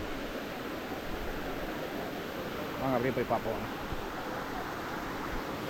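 Krabi Hot Stream Waterfall in Thailand, water rushing as a steady, broad wash of noise that fills the whole scene, with a voice speaking briefly over it.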